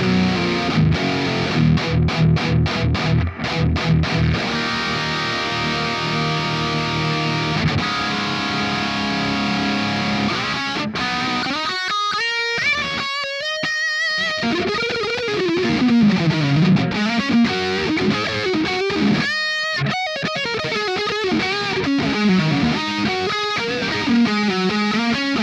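High-gain electric guitar through an amp pack modeled on a 1984 Mesa Boogie Mark IIC+ amp, suited to metal and leads: heavily distorted chords ring out first, then fast, wailing lead lines play on without a break, loud and close, with no voices.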